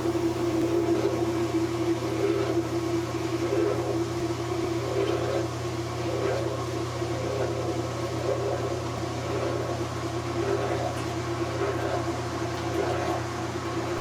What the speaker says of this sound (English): the washer is supposed to start spinning